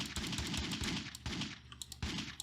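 Rapid pistol shots from a zombie shooter video game, a dense run of sharp cracks repeating in bursts, loud and close with no talk over them.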